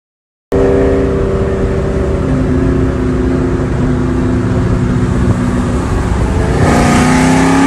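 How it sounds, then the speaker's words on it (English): A loud Ford Mustang V8 with long tube headers, an off-road H-pipe and Mac mufflers starts abruptly and idles with a deep, rumbling exhaust note, then revs up slightly near the end. "if you could bottle up an exhaust note and sell it"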